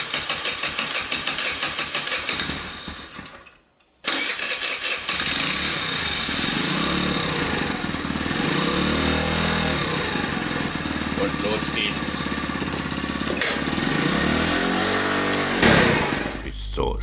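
A scooter's small engine idles steadily, cuts out briefly, then restarts and runs on, with a rev toward the end.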